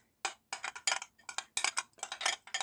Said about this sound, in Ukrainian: Все змішуємо.